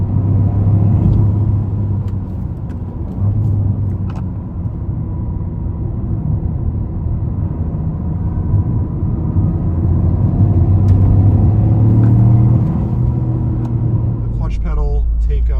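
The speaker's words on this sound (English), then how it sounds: "very small displacement motors such as this that make lots of power per cubic inch." Steady low engine rumble from a 2023 Toyota Corolla GR with a small-displacement, high-output motor, heard from inside the car as a continuous near drone with slight shifts in pitch, no talk.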